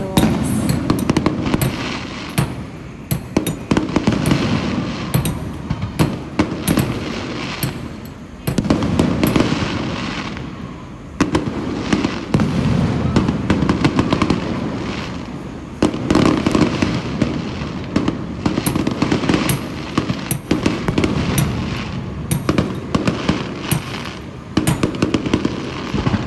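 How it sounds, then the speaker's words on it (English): Fireworks burst at night over a nearby wedding or celebration event, a long run of repeated loud cracks and booming explosions, some in rapid crackling clusters, with brief lulls between volleys and no talking. "I just hope they're enjoying as much as I'm enjoying watching these fireworks."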